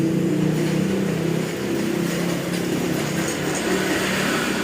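A Yamaha Vega motorcycle with a loud aftermarket exhaust roars steadily throughout, a rough, throaty exhaust drone that dips briefly and then holds strong, with no voices.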